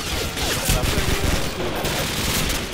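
Dense, continuous bursts of automatic gunfire in a Call of Duty match set in Rio, loud and close, with rapid overlapping shots filling the whole stretch while players talk over it.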